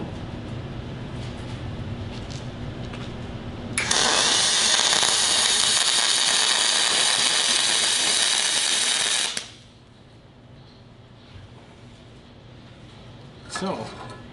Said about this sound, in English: laid a nice weld down, and that's just auto set.